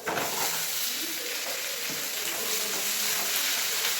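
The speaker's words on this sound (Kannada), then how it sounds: "ಹಂಗೆ ಶುಂಠಿ, ಬೆಳ್ಳುಳ್ಳಿ. ಈ ಥರ ಫ್ರೈ ಮಾಡ್ಕೊಬೇಕು." Tomatoes fry with ginger, garlic and onion in a pan, giving a steady, close, even sizzle and hiss that continues throughout without pause.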